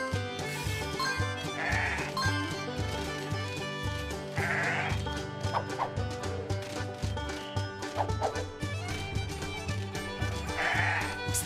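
Sheep bleating in a PAW Patrol rescue video game, several short bleats spaced a few seconds apart over steady background game music, moderately loud with no talking.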